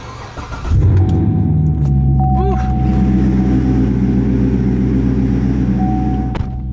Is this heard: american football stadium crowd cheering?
no